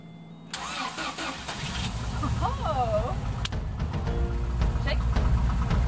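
A van that has sat unused for two years cranks and fires up with help from a portable power bank jump-start booster, then settles into a steady idle rumble up close, with a person speaking briefly over the noise.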